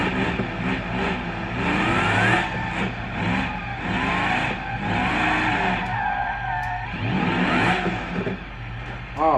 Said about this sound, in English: it's not so easy to drift on BeamNG.